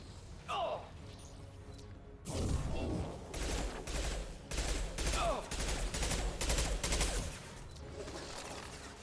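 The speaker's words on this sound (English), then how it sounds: "I'm using SMGs." Rapid bursts of submachine gun fire in a video game, several sustained volleys in a row at close range, with a player's voice talking over parts of it.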